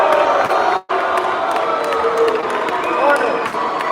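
A boxing event crowd cheers, hoots and hollers in a loud, continuous roar, with a brief dropout near the start and scattered shouts and whoops throughout.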